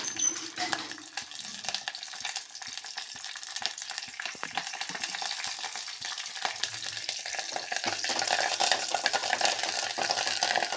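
Curry leaves dropped into a coconut oil tempering with dried chilli and urad dal, crackling and spattering in short bursts that swell into a louder, fuller sizzle toward the end.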